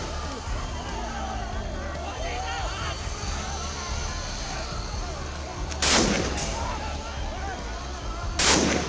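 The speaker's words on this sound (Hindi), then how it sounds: "पुलिस ने पत्थरबाजी कर रहे नौजवानों पर गोली चला दी।" Police open fire on stone-throwing young protesters near Nepal's parliament: two sharp, loud gunshots ring out a few seconds apart over a restless crowd hubbub and distant shouting.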